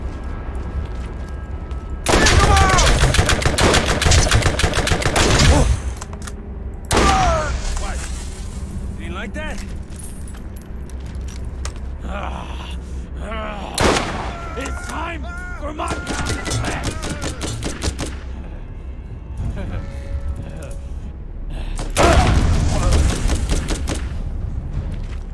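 Gunfire in Borderlands GOTY comes in repeated loud bursts of rapid shots separated by quieter stretches, with voices talking over the fighting.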